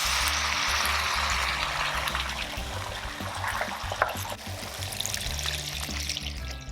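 Two cups of water pour steadily into a pan with pepper paste and mint, a continuous splashing trickle, close and moderately loud, over a low background hum.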